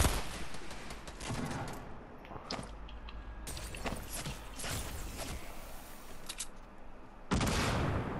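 Gunfire in the video game Fortnite crackles in scattered bursts of sharp shots, some rapid and overlapping, with shooting coming from behind a fence, mixed with clattering mechanical noise and a loud broadband surge near the end.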